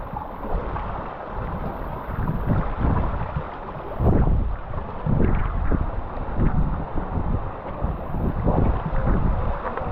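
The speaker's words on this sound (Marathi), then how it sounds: "आणि ते वारं पण भरपूर येतोय" Strong wind blows on the Naneghat mountain ghat, loud gusty buffeting that surges and eases in waves and roars across the microphone with no voices.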